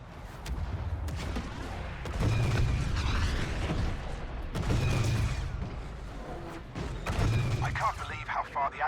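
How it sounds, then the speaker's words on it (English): AT-AT walker cannons fire in the Star Wars Battlefront II video game, heavy booming blasts repeating every couple of seconds over a dense, rumbling battle soundscape, with voices talking over the action. "The AT-AT's cannons are strong enough to bust apart these anti-aircraft cannons"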